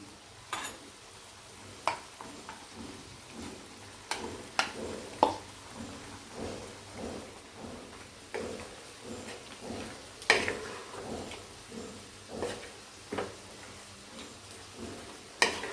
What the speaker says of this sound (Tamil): இது கலக்கி விட்டு இதுவும் வந்து கொஞ்ச நேரம் வேகட்டும்